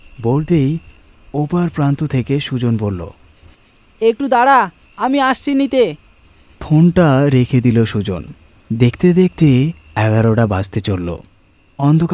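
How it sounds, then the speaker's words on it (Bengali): Crickets chirp steadily at night, a faint continuous high trill running beneath a voice that narrates throughout. "চারিদিকে ব্যাঙের ডাক আর ঝিঝি পোকার ডাক"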